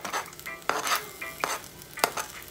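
Oyster mushrooms and sweet bell peppers being sautéed in a pan for an okra stew, with several quick stirring scrapes over a light sizzle, close and fairly quiet, no talking.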